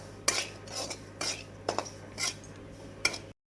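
Semolina (rava) roasts on low heat in a pan while a spoon stirs it, making about six distinct scraping and clinking strokes at a slow, even rhythm over a faint hum, with no talk.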